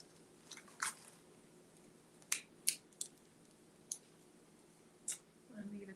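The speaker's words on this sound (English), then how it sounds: "Get the scissors, fasten that one off." Scissors snip yarn to fasten off a crochet or knitting project, several faint, sharp close clicks scattered over a few seconds in a quiet room, with a soft rustle at the end.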